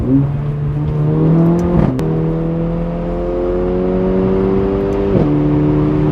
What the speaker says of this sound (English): the pops and bangs are that loud on this car